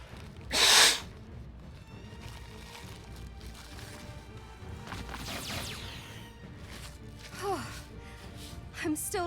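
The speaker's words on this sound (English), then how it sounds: "Got a sneeze coming." A character in the Shadowverse story mode lets out a single sharp sneeze near the start, followed by quieter voiced sounds and game ambience.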